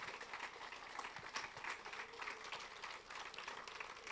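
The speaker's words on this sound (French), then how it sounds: "vous pouvez vraiment, vraiment applaudir les organisateurs de ce festival" Audience applause for the organizers at the close of a Terminator talk at the Retroplay 2024 retro gaming festival, a faint, steady wash of clapping lasting about four seconds with no voices over it.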